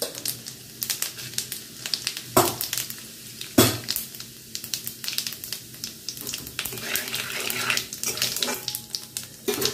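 Dried red chillies and white cumin seeds sizzle in hot oil, a steady close crackling hiss with a couple of sharper pops and stirring sounds.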